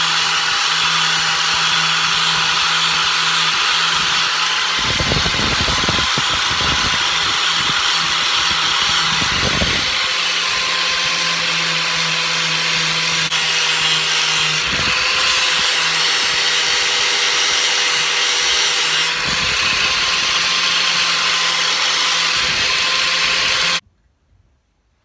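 A power sander with a sanding disc whines loudly and steadily on a steel file being shaped into a Viking seax knife, with several short bursts and shifts in pitch as it bites into the surface, then cuts off abruptly.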